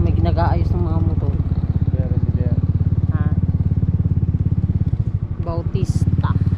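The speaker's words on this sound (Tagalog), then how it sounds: "may nag-aayos ng mga motor" Motorcycles under repair at a cemetery give off a close, steady putter like an idling small motorcycle engine, which runs throughout while a voice talks over it.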